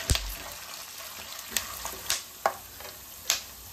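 Peanuts, urad dal and chana dal frying in a pan, a quiet sizzle broken by several sharp scraping stirs spaced about half a second apart.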